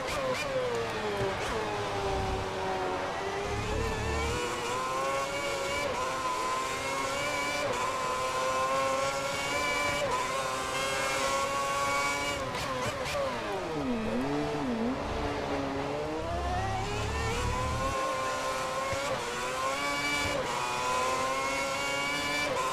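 A Ferrari F10 Formula 1 car races at Melbourne in the F1 2010 video game, its engine screaming continuously with rising and falling pitch through gear changes and braking, loud and close, with no talk.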